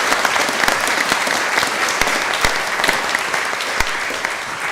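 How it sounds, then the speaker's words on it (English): Sustained audience applause at a climate action conference in Halesworth, dense steady clapping filling the room with a few sharper claps standing out, loud and continuous throughout. "So let's give a round of applause to the town council."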